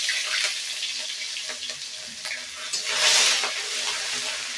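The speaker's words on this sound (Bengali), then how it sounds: "আদাটাকেও এই চন্দনি আর এলাচ, লবঙ্গ, দারচিনি দিয়ে ভালো করে এটাকে ভেজে নিতে হবে" Grated ginger frying with cloves, cardamom and cinnamon in a pan over lowered heat, a continuous hissing sizzle with light stirring scrapes and a louder swell of hiss near the end.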